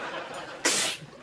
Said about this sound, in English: why don't you do something about that sneezing?